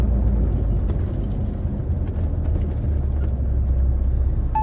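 Continuous low engine rumble from a car driving through a Polish village, pushed hard on the throttle, steady and close without talk.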